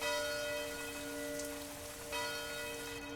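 A church bell rings in the zombie game Guts & Blackpowder, a sustained tolling tone with two fresh strikes over a rainy hiss, moderately loud with no voices.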